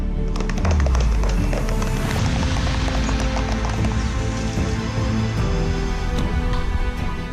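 Horse hooves clip-clop continuously at a ceremonial presidential event with soldiers on horseback, many hoofbeats overlapping into a loud, busy clatter amid outdoor noise.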